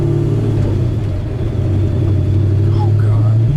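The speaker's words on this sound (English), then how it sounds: "this thing gets up and goes, dude. Even in fourth." A 1969 Ford Mustang Mach 1 accelerating in fourth gear, a loud, steady low rumble from inside the car with voices talking over it.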